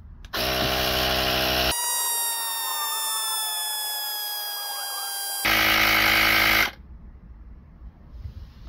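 A Vogma portable tire inflator air compressor runs with a loud, steady mechanical buzz, shifts to a higher electronic whine with tonal beeps, then returns to the buzz before stopping abruptly.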